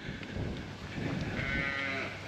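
Sheep and goats at a wildlife park zoo, faint bleating over low background murmur, with a clearer drawn-out bleat toward the end.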